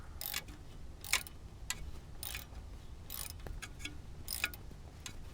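Faint bursts of ratchet clicking come from a wrench turning exhaust downpipe bolts counterclockwise on a Dodge Charger or Challenger SRT Hellcat during a JBA catless downpipe install. The clicks come in short, irregular runs close by, with no talk.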